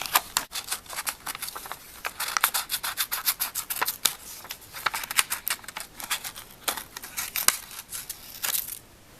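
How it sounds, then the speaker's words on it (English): Scissors snip through paper glued onto cardboard, cutting out letter shapes with a rapid run of close, crisp clicks and slicing rubs that continue steadily, with no voices. "I can cut them out exactly to their final shape and then trace around them."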